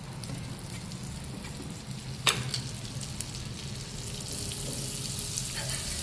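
Butter sizzling on a hot griddle while cheesy potato tacos fry, a soft steady crackle close by with a small clatter partway through, and no talking.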